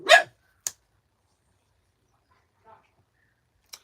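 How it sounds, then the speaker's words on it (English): A dog barks once, loud and close, then gives a shorter yelp, followed by a long stretch of near silence with faint whimpering sounds and a final short bark. "We don't need to hear you barking."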